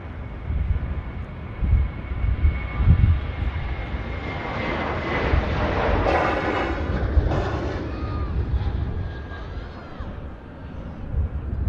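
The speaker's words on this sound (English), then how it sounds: "EasyJet arriving in from Iceland." An EasyJet airliner arriving at Manchester Airport from Iceland, a loud, steady jet engine roar that swells and holds at close range before easing slightly, with no talk over it.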